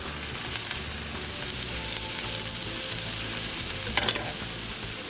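A Reuben sandwich with corned beef, sauerkraut and melting cheese fries in a pan, giving a steady close sizzle with a brief scrape partway through.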